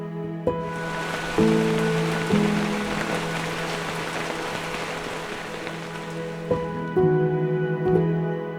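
Heavy monsoon rain falls on a village in the Konkan hills of Sindhudurg as a dense, continuous hiss, with soft sustained tones layered over it throughout.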